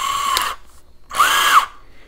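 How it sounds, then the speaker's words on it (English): A power drill held in hand bores into an ACE II tubular padlock, two loud bursts of high whining grinding, the second longer and rising in pitch, separated by a short quiet pause. "normally I would not even consider drilling a lock in my hand"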